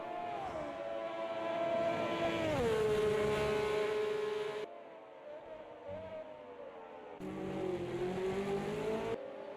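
Formula Junior single-seaters at a historic race, engines loud and close with a revving pass, a pitch drop as one goes by, a quieter gap, then another car climbing through the revs.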